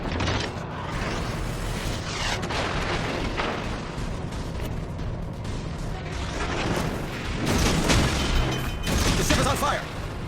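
A cruiser sinking amid explosions in a naval warship battle game, with continuous loud rumbling blasts and creaking, and a surge of heavier booms near the end, all under voices talking.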